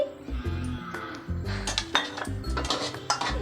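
A metal pan set down on a stove burner while preparing a Telugu dried-fish curry, giving several close clanks and scrapes of cookware in a quiet kitchen, with no talking.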